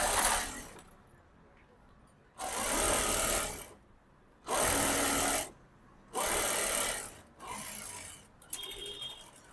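A sewing machine stitches along the edge of a straight-cut pant piece in three or four steady bursts of rapid whirring, separated by short pauses, with a brief softer sound at the end.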